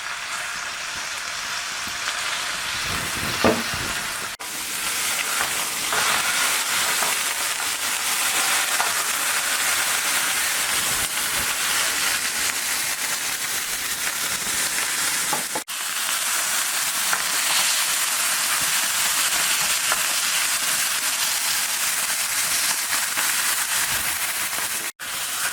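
Pork tenderloin medallions brown in hot oil in a pan, giving a loud, steady, close sizzle and crackle that runs unbroken, with a couple of brief dips where the meat is shifted.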